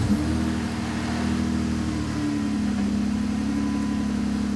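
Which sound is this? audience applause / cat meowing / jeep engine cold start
jeep engine cold start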